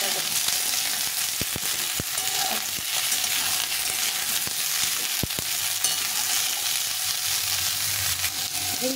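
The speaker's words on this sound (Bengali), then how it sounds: "ঝিঙে আর পটলটাকে একটু ভেজে নেব হালকা করে" Ridge gourd and pointed gourd frying in a pan, a steady loud sizzle throughout, with a few sharp stirring clicks and scrapes.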